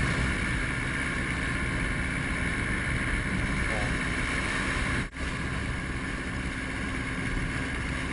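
A boat tows a buoy and anchor at sea, giving a steady broadband motor and water rush with wind buffeting the microphone and a brief dip midway; no clear voices.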